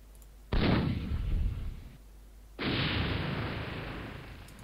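Artillery in a Civil War strategy game at Antietam: two heavy booming discharges a couple of seconds apart, each a loud rumbling blast that decays slowly, with no talk over them.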